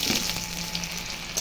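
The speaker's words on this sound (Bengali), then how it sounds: "ডালটা দেখো হালকা ভেজে নাড়াচাড়া করে নিলাম" Moong dal sizzles in hot oil with dry chilli, bay leaf and cumin, a continuous bright frying hiss close up with faint stirring, no voices.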